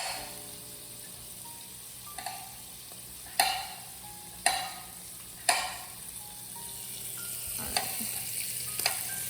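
Whole garlic cloves dropped into a hot pan of bacon fat, a low steady sizzle broken by several sharp clacks of utensils against the pan.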